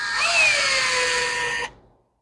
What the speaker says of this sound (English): Let's pull this screw out.